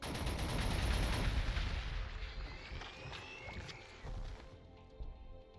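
Units trade gunfire in the strategy game Warhammer 40,000: Gladius, Adeptus Mechanicus infantry firing: dense rapid shots and bursts, loud at first and easing into scattered cracks toward the end.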